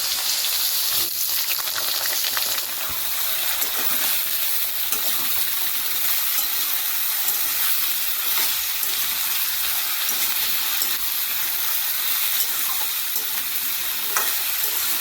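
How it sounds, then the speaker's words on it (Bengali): Freshly cut potatoes frying in a pan of hot oil with nigella seeds and green chillies, a loud, continuous close-up sizzle with a dense crackling hiss that holds steady throughout, no voices. "এবার এর মধ্যে এই কেটে রাখা আলুগুলোকে আমি ভালো করে ভেজে নেব।"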